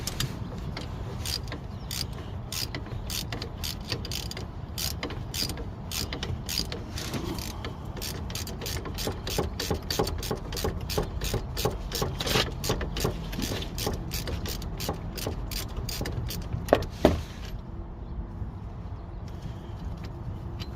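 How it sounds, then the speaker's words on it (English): A ratchet with an extension and 15mm socket loosens the wheel bearing bolts on a 2009 Chevy Cobalt, giving a rapid, continuous run of close clicks for about seventeen seconds before it stops. "Use an extension with a 15mm to loosen up the 3 bolts holding on the wheel bearing assembly"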